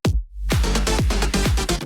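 An electronic dance track's first drop starts bare: punchy kick drums thump roughly every half second over a rising sub sweep and a wash of bright white noise, loud and alone.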